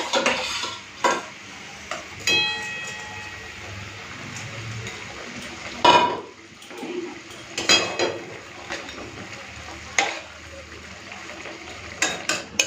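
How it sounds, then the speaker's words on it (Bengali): Fried parshe fish goes into a boiling mustard-poppy gravy, with soft bubbling and sizzle broken by several sharp clinks and scrapes of a spatula on the pan, and a voice talks briefly at times. "গ্রেভিটা ফুটে উঠেছে আমি ভেজে রাখা মাছটা দিয়ে দিই"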